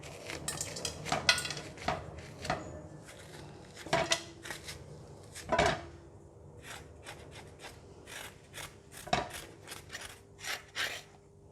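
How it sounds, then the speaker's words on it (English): A spoon scrapes the seeds out of a halved bitter gourd, making a series of quiet, irregular scraping and clicking strokes with short pauses between bursts, close up and without talk. "Use the spoon or teaspoon to remove all the seed out from here, just like this."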